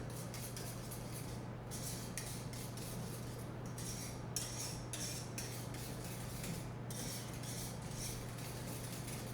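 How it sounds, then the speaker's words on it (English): Mac and cheese ingredients whisked together in a pot or bowl, a steady metallic scraping and rubbing with no pauses, fairly close, under a constant low hum. "Just whisk them together."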